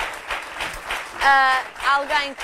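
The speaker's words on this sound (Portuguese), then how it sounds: "Um aplauso para ela." An audience at a fashion show for a dress collection breaks into brief scattered applause, the clapping audible early on and then mixed under a presenter speaking.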